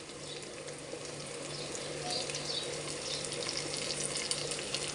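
Four eggplants fry in a pan, giving a steady, soft sizzling hiss that rises slightly midway and continues alone at a low, even level.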